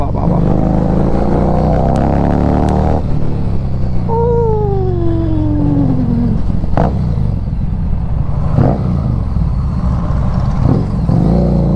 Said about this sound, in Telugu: ఆ ఎగ్జాస్ట్కి పేరు అరుస్తుంది బండి నిజంగా